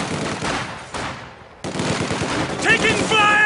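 Rapid machine-gun and rifle fire in Company of Heroes 2 comes in close, loud bursts, drops briefly to near silence, then resumes heavier with game voices calling out over it.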